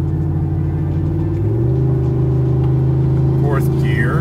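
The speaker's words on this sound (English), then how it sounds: "Coming up a hill. She kicks down." Gas engine of a Ford F-350 Tremor pickup towing 15k pounds uphill, a steady loud rumble that climbs in pitch as the transmission kicks down, heard from the cab.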